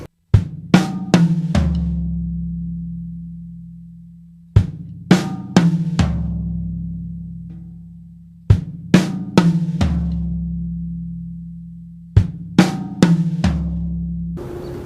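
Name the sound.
gospel drum fill on kick, snare, toms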